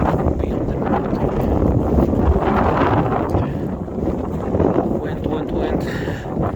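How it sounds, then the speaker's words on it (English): Strong wind blowing near an erupting volcano in Iceland, a steady loud roar buffeting the microphone throughout with gusts rising and falling. "Some wind now."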